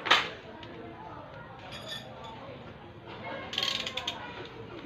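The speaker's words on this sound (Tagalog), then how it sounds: "Ngayon, gagamit tayo ng socket wrench." A 22 mm socket wrench ratcheting on the chain adjuster of a KTM Duke 390 motorcycle, a sharp clink at the start followed by bursts of close metallic clicking.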